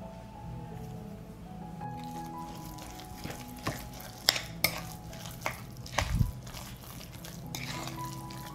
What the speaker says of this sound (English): I'll stir.